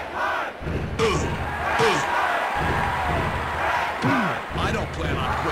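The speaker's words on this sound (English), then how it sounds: "The crowd is on its feet." Arena crowd in the WWF Warzone wrestling game roaring steadily throughout, with a few thumps and slams from the ring over the continuous cheering.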